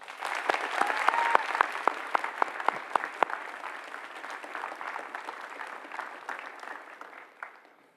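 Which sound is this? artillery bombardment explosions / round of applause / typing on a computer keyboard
round of applause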